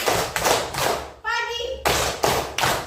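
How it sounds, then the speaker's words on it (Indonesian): In a children's classroom clapping game, a group claps in sharp, loud bursts, roughly three together, then a voice calls out in the pause before another set of three claps follows. "pagi tepuk 3 kali"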